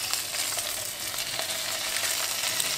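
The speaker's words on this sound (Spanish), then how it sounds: "vamos a empezar a echar los huevos" Eggs fry in a pan with a steady, close crackling sizzle, even and continuous throughout.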